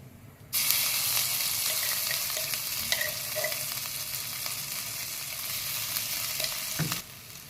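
A paste of ginger, garlic, green chili and coriander hits hot oil, already crackling with mustard seeds and cumin, and bursts into a loud, steady sizzle that holds for about six seconds, with faint stirring clinks, before cutting off abruptly.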